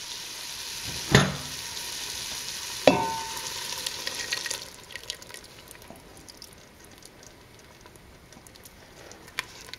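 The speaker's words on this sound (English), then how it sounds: "that's ready to pour over the prawns now" Creamy prawn stock is poured over prawns cooking in a hot pan for a prawn korma, with two short splashing bursts followed by a quiet, crackling sizzle and simmer.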